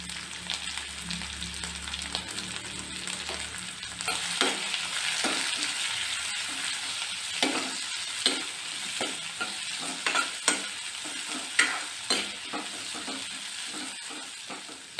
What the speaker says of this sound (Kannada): ನಾಲ್ಕು ಹಸಿಮೆಣ್ಸಿನ್ಕಾಯಿ ಹಾಕ್ತಾಯಿದ್ದೀನಿ ಸಿಡಿಯುತ್ತೆ ಅಂತ ಮುರಿದಾಕ್ತಾಯಿದ್ದೀನಿ